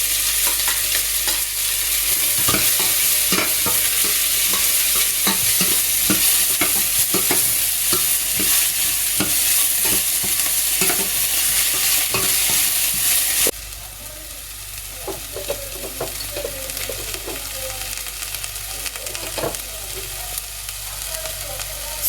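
Onions frying in oil with mustard seeds and cumin in a home kitchen pan, a steady close sizzle with frequent stirring scrapes; the hiss drops noticeably in level about halfway through and continues more quietly.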